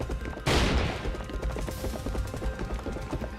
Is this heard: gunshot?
yes